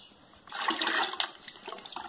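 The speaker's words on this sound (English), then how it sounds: "I stir between every mug." Liquid ceramic glaze is stirred in a container between mug dips, making a close, wet churning and sloshing that starts abruptly and continues unevenly, with no talking over it.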